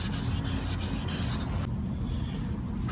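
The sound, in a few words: sanding a hazed car headlight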